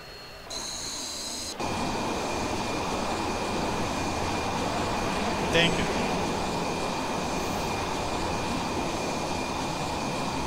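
Aircraft engine in the Falcon BMS flight simulator during an emergency landing in a heavy storm: a steady, loud broadband roar that holds for the whole stretch, with a brief high whine near the start.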